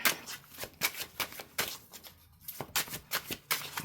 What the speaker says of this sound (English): get another good shuffle